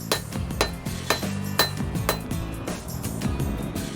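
Hammer blows ring on hot metal at a small traditional blacksmith's forge, a close series of bright metallic clinks in an even working rhythm with faint clanking between strikes.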